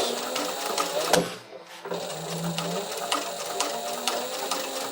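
A sewing machine stitches through thick backpack straps, its rapid mechanical chatter running steadily up close, with one brief pause near the start before the needle resumes its even rhythm.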